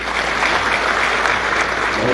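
Steady applause from an audience at a university convocation ceremony in Uttarakhand, a dense wash of clapping filling the hall at an even level throughout.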